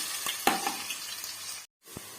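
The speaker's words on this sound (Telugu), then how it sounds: "క్యారెట్ తురుము కూడా వేసేసాను. ఇది బాగా వేయించేసుకోవాలి." Grated carrot frying in hot oil tempering, a soft steady sizzle with a few stirring clicks, close and fairly quiet, cutting out briefly near the end.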